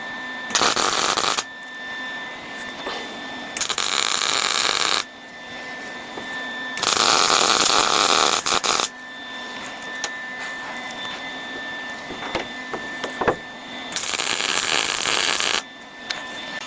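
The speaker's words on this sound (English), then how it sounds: "let me tack weld this so it doesn't move" Tack welding on the windshield frame of a 1968 Pontiac GTO comes in three or four harsh, crackling bursts of a few seconds each. A quieter shop hum fills the gaps between them.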